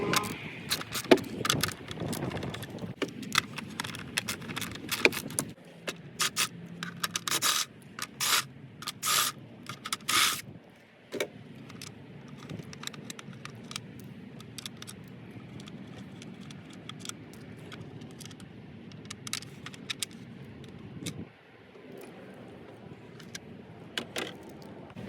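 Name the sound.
removing engine cover bolts with 10mm socket on Honda CR-V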